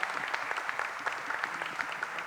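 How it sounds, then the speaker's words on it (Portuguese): An audience applauds for Terezinha with a steady, even patter of many hands clapping, moderately distant, sustained without pause. "Uma salva de palmas para ela."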